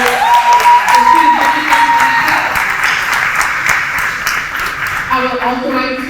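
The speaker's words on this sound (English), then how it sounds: "So I want to give our parents a hand clap for all the rides" An audience at an 8th grade promotion ceremony claps for the parents, loud and sustained with some cheering, while a voice and tonal feedback run through the applause.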